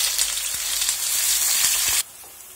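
Onions hit hot oil in a heated pan for a French stuffed-bun filling, setting off a steady bright sizzle with a few light knocks that cuts off abruptly after two seconds.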